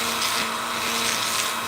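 A power drill whines steadily and loudly during chainsaw wood carving work, a constant motor hum with no pauses.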